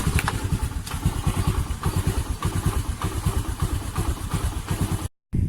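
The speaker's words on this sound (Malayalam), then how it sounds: "വാഹനത്തിന്റെ കിക്കർ സ്റ്റാർട്ടിംഗ് പരിശോധിക്കുക." A used two-stroke scooter runs after a kick start, its small engine chugging and clattering in a quick steady pulse close by, with a brief dropout near the end.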